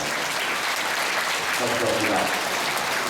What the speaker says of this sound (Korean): 규례 선생님께 다시 한 번 교수님께 큰 박수 보내주시겠습니다